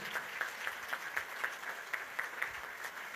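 Congregation clapping in rhythm at a Sunday church service in Chirala, steady evenly spaced claps about four per second, fairly faint and distant throughout.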